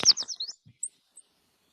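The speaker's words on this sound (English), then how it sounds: "This one's a yellow warbler." A yellow warbler singing nearby: a quick burst of thin, bright, high chirps running together, then a couple of isolated faint high notes afterward, with no one speaking.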